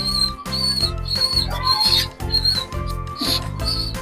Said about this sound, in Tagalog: yung naririnig yung siyap ng ibon